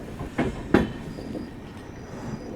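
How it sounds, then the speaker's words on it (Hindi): Duronto Express 22213, Shalimar–Patna, pulling into Jasidih Junction station: a steady rumble of railcars with two sharp clanks or thumps early on, then a continuous rolling drone with no talk. "गाड़ी अपने दूसरे official halt JCD junction railway station पे अराइव कर रही है"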